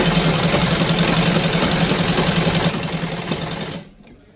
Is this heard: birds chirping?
no